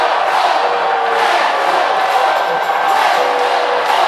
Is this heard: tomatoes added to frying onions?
no